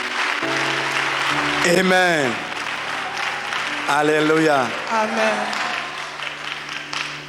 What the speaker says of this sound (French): Applaudis très fort le Seigneur Jésus.